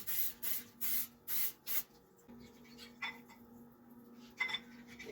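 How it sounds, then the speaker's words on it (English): Cooking spray hisses from a can into a slow cooker in five short, sharp bursts, followed by quieter clinks and handling noises in a kitchen, with no talking. "And I'm also going to get cooking spray."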